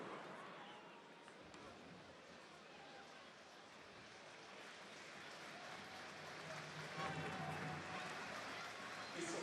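A rugby stadium crowd at a Top 14 match between Lyon and Perpignan applauds a substituted player leaving the field, a broad distant roar swelling toward the end beneath a commentator's voice.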